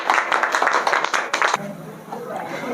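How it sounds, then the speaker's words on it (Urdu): An audience at an Islamic quiz competition claps in a dense burst of applause that lasts about a second and a half, then cuts off abruptly, leaving faint room noise. "بالکل صحیح جواب, تالی بجائیے سب لوگ"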